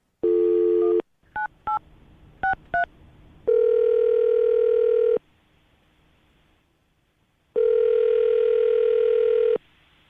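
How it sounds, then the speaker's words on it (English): A telephone line plays a steady dial tone, then a few short dialing beeps, followed by two long ringback tones separated by a pause, clear and close. "I'm going to dial the phone right now so we can get her on the phone"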